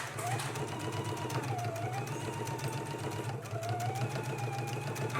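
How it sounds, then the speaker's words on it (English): A sewing machine runs continuously, stitching a 5/8 inch sleeve seam on a jacket, its fast, even whirring rhythm close and steady with no talking. "Once you have it pinned, we can go to the sewing machine."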